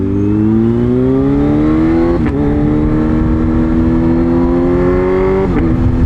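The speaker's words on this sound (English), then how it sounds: "I actually can hear the supercharger still." A loud supercharged motorcycle engine accelerates hard, its pitch climbing through two quick gear shifts, with a high supercharger whine riding over the roar.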